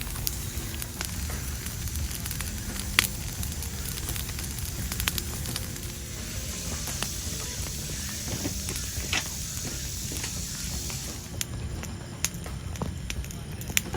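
An outdoor campfire burns with steady crackling and sharp pops scattered throughout, a close, continuous texture with faint background ambience.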